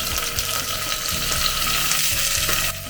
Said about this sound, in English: You can see the onions are kind of turning golden, so in goes the tomatoes.